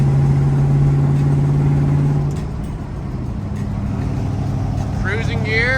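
An LS-swapped Jeep YJ cruises in fifth gear while towing a log splitter. A loud, close engine drone holds a steady whine before it drops and settles into a lower, smoother tone.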